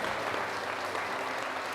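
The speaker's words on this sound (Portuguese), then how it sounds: "Vamos dar um forte aplauso ao nosso Senhor Jesus." Church congregation applauding together in a steady, dense burst of clapping, loud and continuous throughout with no talking over it.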